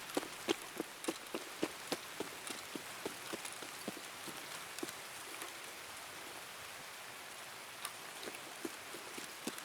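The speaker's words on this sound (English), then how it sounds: "it is raining, so it's going to make it a lot easier to spot enemies through the fog and rain of Tarkov" Rain in Escape from Tarkov falls steadily on surfaces around the player, with a continuous hiss and scattered drop impacts, close and even, with no talking.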